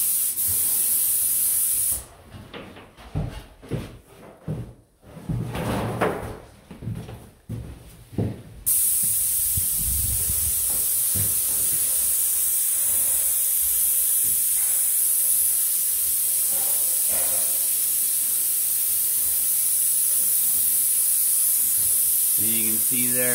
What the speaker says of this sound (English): It's a spray day today.